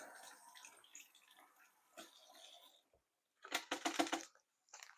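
Running water splashes over a very salty piece of corned beef being rinsed, coming in uneven bursts with a brief pause, and a stronger gush near the end.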